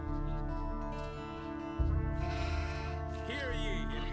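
Sheep bleat a few times over a sustained musical background in the video game Gothic 2, with the calls clear but not loud.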